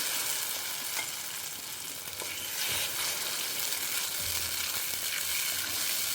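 A thin, soaked flour batter fries in a pan with a continuous loud sizzle, broken by occasional scraping strokes as it is stirred.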